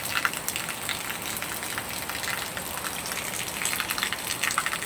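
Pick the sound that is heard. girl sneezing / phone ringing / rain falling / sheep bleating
rain falling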